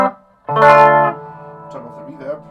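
Electric guitar played through a Line 6 Micro Spider amp with chorus and flange modelling, one sustained chord swelling with a swirling, shimmering sweep, then fading into a quieter ringing tail with small plucked notes.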